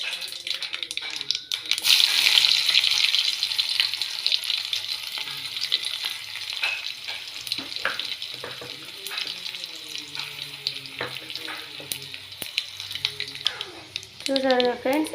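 Pounded chilli karam chutney sizzles loudly after going into hot tempering oil, with steady frying hiss and occasional stirring scrapes close by, and a voice talks at times.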